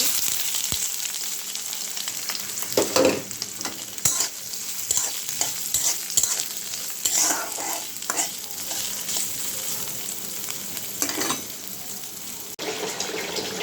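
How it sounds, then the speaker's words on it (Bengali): Dried chillies and onion crackle and sizzle in hot oil for a dal tempering, a steady close frying hiss with occasional stirring scrapes, no talking. "ডালটা সম্বাদ দিব হয়ে গেছে শুকনো মরিচ আর পেঁয়াজ দিব"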